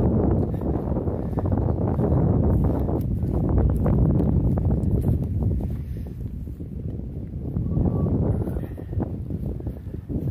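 Steady outdoor wind gusts buffet the microphone in a continuous low, broad rumble that swells and eases over about ten seconds, with no voices.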